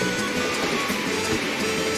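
A rushing waterfall in the Super Mario 3D World video game gives a steady, even broadband roar of falling water with a faint tonal game hum, continuous and without voices.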